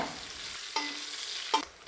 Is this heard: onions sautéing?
yes